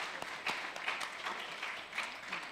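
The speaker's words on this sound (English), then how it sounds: "Let's give her a round of applause" A modest round of applause from the audience at a Lagos bar association law week session, scattered clapping with a few louder individual claps standing out, fairly quiet and brief.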